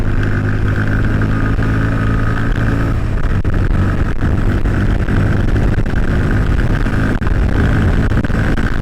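A Bajaj Pulsar NS 160 motorcycle cruises at speed in fifth gear, around 85. Its engine drones loud and steady with heavy wind rush, heard continuously from the rider's position.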